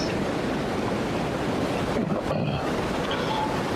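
Strong wind gusting across an outdoor golf course, buffeting the microphone in a loud continuous roar that dips briefly midway.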